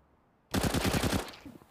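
A rapid burst of about eight close, loud rifle shots in CS:GO on the Nuke map lands the opening headshot kill in a pro match, then fades quickly.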